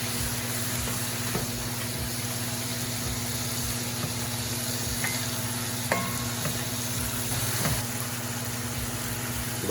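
Ground meat sizzles steadily in a frying pan for Philly steaks, with occasional scrapes and taps of a utensil breaking it up and stirring, over a constant low background hum.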